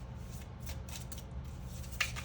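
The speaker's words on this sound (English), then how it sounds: "I am shuffling all these next sets of cards live." Soft papery riffling of tarot cards being shuffled, a steady close-up rustle with a sharper flick near the end, no voices.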